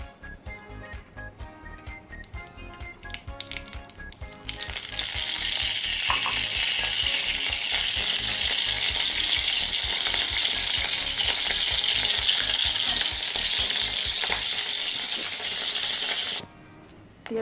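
Oil sizzles in a hot wok while spiced bitter gourd is cooked, starting with faint clinks and stirring, then a loud, steady, close frying hiss that holds for over ten seconds before cutting off.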